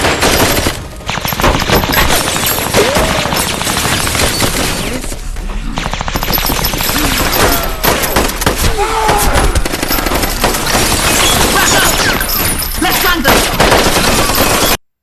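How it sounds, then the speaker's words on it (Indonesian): Dense, sustained gunfire from a shootout scene in the action film The Debt, with rapid automatic bursts and overlapping shots blended with music and effects, loud throughout before cutting off abruptly. "Mereka akhirnya saling baku tembak."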